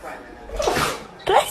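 A single sneeze bursts out mid-clip, followed by a second short sharp burst near the end, both close and fairly loud over a quiet room background.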